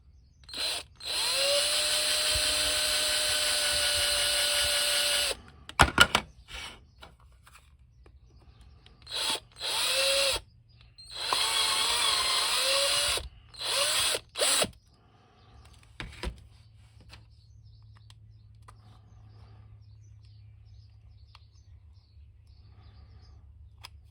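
A power drill whines in several bursts drilling into a 12-inch action figure, one long run followed by shorter spurts with pauses between, close and loud, then quiet handling noise.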